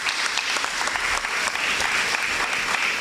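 An audience claps steadily at a school prize giving day, a dense sustained wash of applause filling the hall with no voices standing out.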